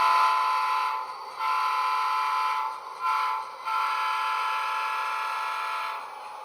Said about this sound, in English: This will start the train moving down the track as the locomotive sounds its horn.